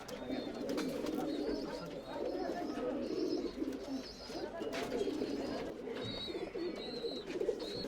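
Tumbler pigeons cooing in a loft, a dense chorus of soft, throaty coos close by with occasional higher chirps, continuous and overlapping, with a voice talking faintly underneath.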